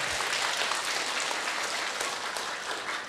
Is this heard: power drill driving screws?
no